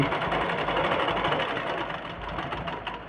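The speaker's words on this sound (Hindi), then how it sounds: "यहाँ से अब कपड़े में बराबर सिलाई चलाना है" A sewing machine stitches fabric with a fast, even mechanical chatter and hum, close and continuous, easing off slightly toward the end.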